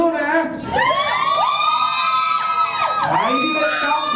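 A cheering squad of fans shouts and whoops together at a meet-and-greet event, a dense, loud crowd of overlapping voices with rising yells that never lets up.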